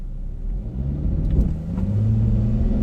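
A Dodge Challenger SXT with a V6 pulls away on a street from a standstill toward 60 mph, its engine rumbling low and rising steadily in pitch as it accelerates, loud and close with no talking.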